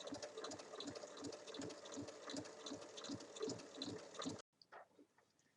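Sewing machine stitching a fabric strip, with a steady fast rhythmic chatter of needle strokes for about four seconds before stopping, followed by faint handling sounds, quiet and close, no talking.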